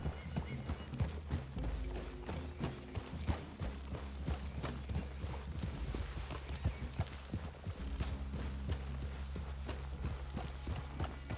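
Horses clip-clop steadily at a walking pace across a forest clearing in Red Dead Redemption 2, a continuous soft trot of hooves with faint tack and movement noises beneath.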